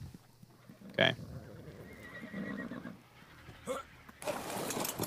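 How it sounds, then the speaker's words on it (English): Equus horse in the video game ARK giving a sharp whinny, followed by another shorter neigh, with hoof clatter and game noise around it. "Her, her, her horse is over there running like crazy, too."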